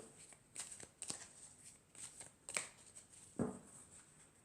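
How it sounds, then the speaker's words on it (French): Tarot cards are shuffled and drawn by hand, giving soft, scattered riffles and slaps that come in short bursts close by against a quiet background. "je vais prendre encore 4 cartes"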